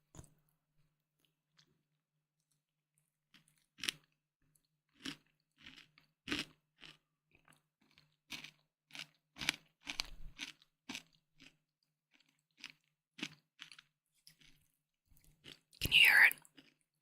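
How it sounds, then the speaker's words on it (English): Yogurt with granola being eaten, with soft crunchy chews spaced out across a quiet close setting and a louder burst near the end. "I've got some yogurt with granola, so it's got a bit of like, the creaminess and the crunchiness."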